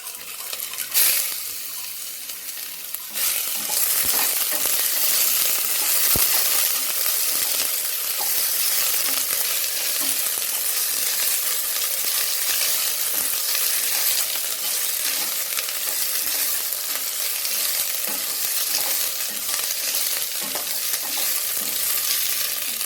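Ginger garlic paste fries in a pan with a continuous close sizzle for over twenty seconds. A utensil scrapes and stirs it at intervals and no one speaks.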